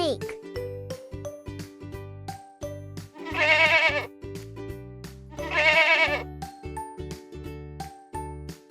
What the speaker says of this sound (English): What sound does a goat make?